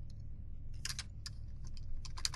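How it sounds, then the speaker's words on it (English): Rapid clusters of computer keyboard keystrokes while entering Java servlet code, close and crisp over a steady low hum, coming in short bursts with brief pauses between them. "I'll keep typing."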